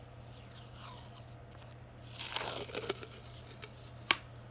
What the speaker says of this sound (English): I come in with my paper tape.